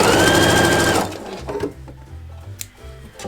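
A sewing machine stitches a quilt block seam in a loud, fast whirring burst that stops after about a second, followed by quieter handling clicks and fabric rustle.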